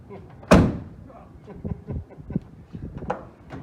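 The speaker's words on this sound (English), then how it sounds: "Get in there and close that door." A single loud car door slam near the start, followed by softer knocks and thumps as the new steel door settles.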